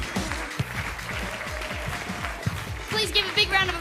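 Audience applause at a comedy show as the performers are thanked, scattered clapping over music with a thumping beat and a voice on a microphone.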